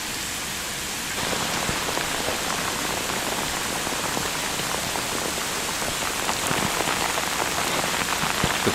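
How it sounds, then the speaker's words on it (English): Rain starts suddenly on a volcano trail during a thunderstorm, jumping from quiet into a dense, steady patter of drops on the surface around, close and continuous with no voices. "out of nothing it started raining again."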